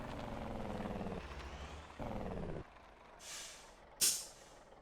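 A truck handbrake is set in the Motor Town video game, with a steady engine drone that cuts off, a soft rush, then a sharp loud hiss of air release near the end.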